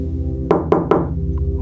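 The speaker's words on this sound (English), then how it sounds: "One soft knock." Knocking on a door of a rented cabin at night: three close, soft, hollow raps in quick succession, then quiet, over a faint low hum.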